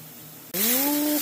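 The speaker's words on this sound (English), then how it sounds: "if you have an electric toothbrush, you can now have a poor man's ultrasonic cleaner." An electric toothbrush used as a makeshift ultrasonic cleaner on a lawnmower carburetor switches on abruptly partway through, giving a steady, close buzzing hum with hissy vibration that holds and rises slightly in pitch.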